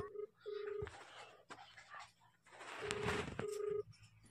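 A telephone is dialed with a quick series of keypad tones, followed by a ringing tone on the line, heard fairly faint in a cartoon scene with voices talking around it.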